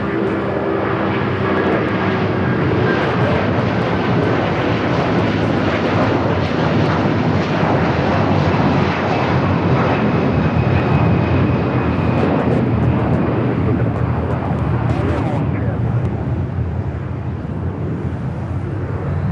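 Airbus A330-200 jet on Flight 3 to Honolulu at Los Angeles airport, a loud, sustained broadband engine roar close by with a thin descending whine, steady for nearly twenty seconds.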